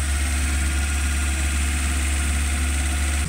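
A Suzuki APV car engine idles after tuning, giving a smooth, continuous low rumble that holds perfectly even and close for the whole stretch, with no voices.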